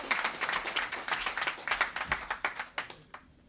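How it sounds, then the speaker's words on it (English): Scattered audience applause at a college event: a small group claps in a quick, uneven rhythm, distinct individual claps fading over a few seconds, fairly quiet. "Give him a round of applause."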